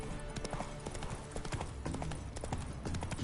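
Roach the horse in The Witcher 3: Wild Hunt, hooves clip-clopping in a quick, continuous gallop rhythm, close and busy throughout.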